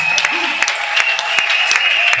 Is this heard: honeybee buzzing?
no